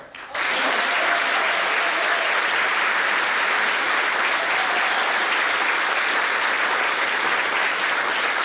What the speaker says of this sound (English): Another applause for Uhuru Youth Choir